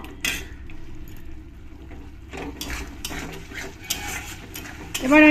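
A utensil scrapes and clinks in a pan as turmeric and salt are stirred into a spice mix for a cauliflower and katla fish curry. The irregular metallic clatter comes close up, with a louder clink at the end.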